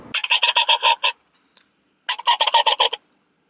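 A person imitates a turkey gobble on a diaphragm mouth call, producing two bursts of rapid, rattling, pulsed notes separated by a short pause. The sound is loud and close.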